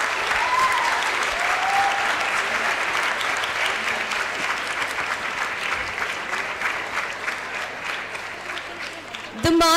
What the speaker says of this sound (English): with a huge round of applause, Campus Law Center, University of Delhi.